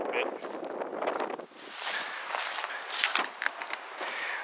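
Wind blows outdoors beside a DIY solar-heated soaker tub setup with a collector and hose, a steady broadband rush with gusty swells and microphone buffeting that runs through the whole stretch.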